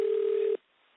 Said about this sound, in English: Phone ringing noise is coming.